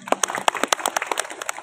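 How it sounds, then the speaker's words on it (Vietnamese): Audience clapping at a school flag-salute ceremony, a brisk run of sharp, uneven claps close by that keeps going without letup. "chúng ta cho một tràng pháo tay"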